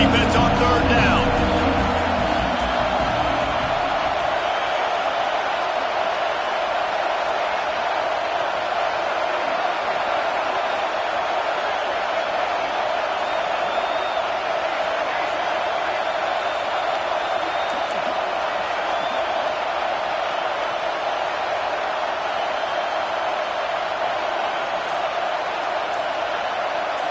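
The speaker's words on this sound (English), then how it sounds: "Decibels rising as the crowd gets behind this defense on third down." Stadium crowd at a football game roaring for the defense on third down, a broad, continuous wall of noise that swells early and then holds loud and steady for nearly half a minute, with voices faintly over it.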